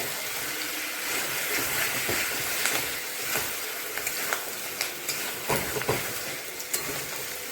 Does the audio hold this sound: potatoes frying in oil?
yes